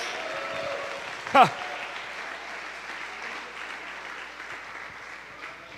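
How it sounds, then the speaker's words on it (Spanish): A church congregation applauding during a sermon, a wash of clapping under a brief shout, steady and moderately distant, with the preacher's voice breaking in. "Usted puede dar un aplauso fuerte, déselo ahora y diga: gloria a Dios."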